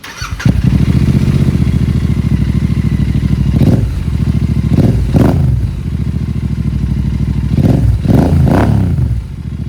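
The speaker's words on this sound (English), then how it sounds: "the engine is a 270-degree crank. I really enjoy its low thumping sound." A Royal Enfield Interceptor 650 with a 270-degree crank twin fires up and rides along with a loud, close, low thumping beat, rising through several throttle surges and gear changes.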